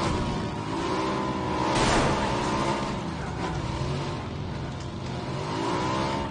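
A motorcycle engine in the PUBG battle-royale game drones steadily and fairly loudly throughout, its pitch wavering slightly, with a brief rushing swell around the two-second mark.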